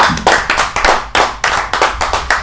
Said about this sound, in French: on va acclamer pour eux